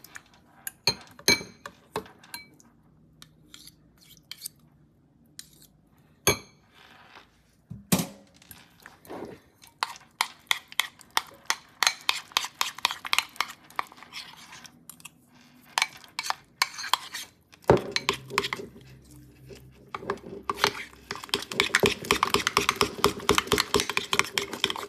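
Melted dark chocolate and peanut butter stirred together in a bowl, giving a run of close clinks and scraping taps of a utensil against the bowl, sparse at first and then brisk and steady.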